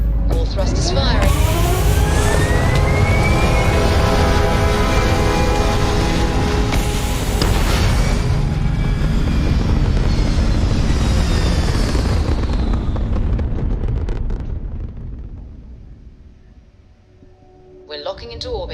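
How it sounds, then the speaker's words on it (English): Spaceship thrusters firing in Starfield: a loud, sustained roar with deep rumble and sweeping rising and falling tones. It holds for most of the time, then fades toward the end before a brief swell, with a voice talking over it. "All thrusters firing."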